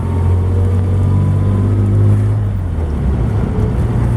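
A 1947 Chevrolet with vacuum-assisted shifting drives along, its engine a steady low rumbling drone heard from inside the car, with a slight rise and settling in pitch as it cruises.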